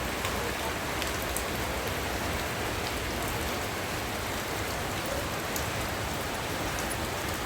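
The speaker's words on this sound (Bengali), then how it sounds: "বৃষ্টিটা কমছে আবার জোরে জোরে বৃষ্টি হচ্ছে" Heavy rain pours down steadily in a village, a dense, loud hiss of drops on surfaces that holds without a break for the whole stretch.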